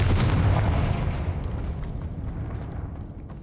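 A Confringo spell blast in a Harry Potter video game booms out as one loud explosive burst with a long rumbling tail that slowly fades.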